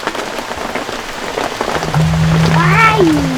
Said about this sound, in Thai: บรรยากาศตอนนี้ก็ฝนตกอยู่พี่น้องเอ้ย